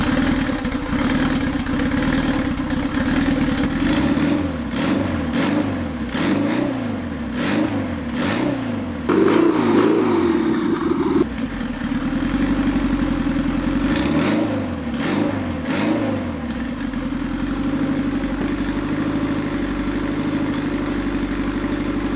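A triple-turbo Honda engine runs throughout, alternating a steady idle with repeated rising and falling revs, loud and close with no talking.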